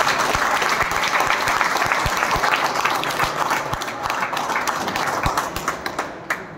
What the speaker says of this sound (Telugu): మనం ఒకసారి గట్టిగా క్లాప్స్ ఇద్దాం లేడీస్.